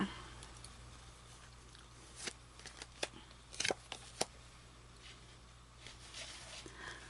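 Quiet room tone broken by a cluster of soft, crisp card snaps and riffles in the middle, then silence again.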